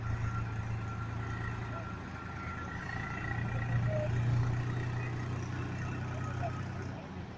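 A tractor engine runs with a steady low hum at a beach after the Ganpati immersion, faint and continuous under crowd noise and distant voices.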